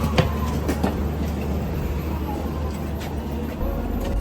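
Rajdhani Express pulling out of Chennai railway station, heard from inside a carriage as a steady low rumble with faint rail clatter and a few sharp clicks throughout.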